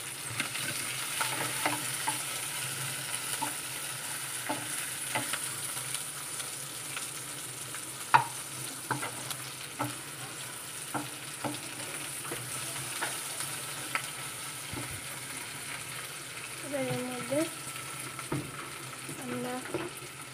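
Ginger and garlic frying in a pan alongside browned ingredients, tomato and green chilli, stirred now and then: a continuous soft sizzle with scattered spatula scrapes and taps, fairly quiet and close, with no talking.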